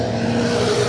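A car engine strains hard while climbing a steep hill on the road to Citorek, loaded with passengers, giving a continuous loud roar with a steady drone and no break.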